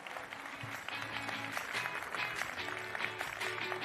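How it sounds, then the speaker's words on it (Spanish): Audience applause at a Dell Technologies Forum corporate event in Spain, a steady, dense round of clapping from a large crowd lasting throughout without a break. "Un aplauso fuerte para él."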